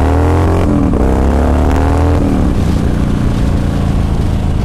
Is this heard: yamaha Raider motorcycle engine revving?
yes